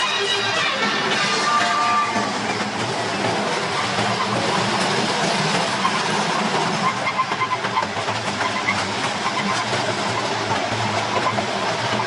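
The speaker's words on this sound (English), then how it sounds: "Listen to the sound of the train." Disneyland's narrow gauge internal-combustion train rumbles steadily nearby with a continuous hissing, rolling rail noise that holds for about twelve seconds, loud and unbroken.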